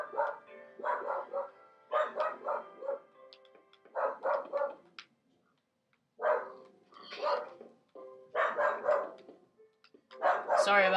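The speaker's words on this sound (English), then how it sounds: "Sorry about my dog, guys." A pet dog barks in repeated bursts of several yaps each, loud and close, in a home during a Minecraft PS3 gameplay session.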